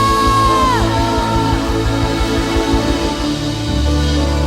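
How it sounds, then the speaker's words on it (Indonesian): A church congregation at a Sunday worship service whoops and cheers in a lively crowd, blended into loud, sustained worship music that fills the room throughout. "Boleh kasih tepuk tangan yang terbaik buat Raja di atas segala raja"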